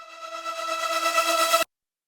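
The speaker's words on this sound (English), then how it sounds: "First, we start here with this reverse lead effect. It sounds like this." A reversed reverb-tail lead synth effect swells upward with a rich harmonic tone and a wobbling, pulsing volume, then cuts off abruptly into silence after about a second and a half.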